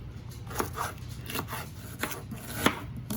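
A knife chops onion on a cutting board for shrimp tacos, in close, irregular cuts roughly every half second, with light rubbing between strikes.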